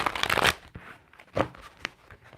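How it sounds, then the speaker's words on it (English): A deck of tarot cards is shuffled up close, with a dense riffling burst followed by a few softer slaps and flicks of cards, quiet and with no voices. "that was a good shuffle"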